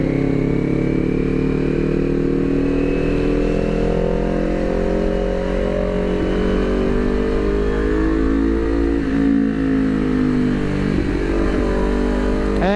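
A Kawasaki Ninja 400 motorcycle engine revs on a night ride. Its pitch rises and falls steadily through gear changes over a constant road and wind rush, loud and close, with no talking.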